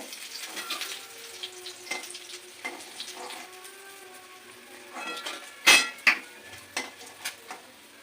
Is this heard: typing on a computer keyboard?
no